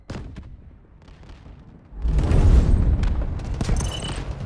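Artillery barrage in the military shooter Delta Force: Hawk Ops, opening with scattered distant thuds and shots, then swelling into a loud, continuous rumble of heavy booms and blasts.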